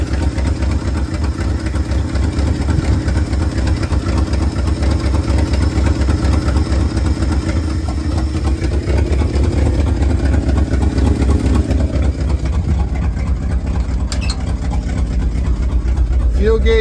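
A 1971 Ford F250 truck, running again after sitting nine years among trees, idles with a steady, loud low rumble throughout. A voice talks over the engine.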